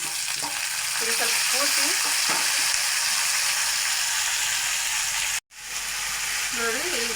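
Tomatoes frying in a pan for a tomato gojju sizzle steadily and loudly throughout, with brief stirring and a short pause near the end, while a voice speaks briefly over the cooking.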